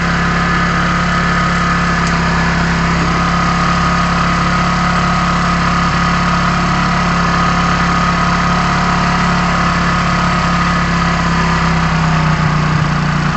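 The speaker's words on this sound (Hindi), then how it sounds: "तो इंजन की स्पीड जो है वो अभी 4000 के करीब में है।" A Hero motorcycle engine idles at a steady, even pitch around 4000 rpm while its air screw is adjusted, humming and vibrating continuously up close with no talking.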